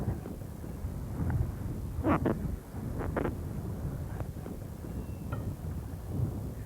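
Steady wind buffets the microphone with a low rumble on a windy lake point while bass fishing, joined by a few faint sharp knocks and splashes near the water.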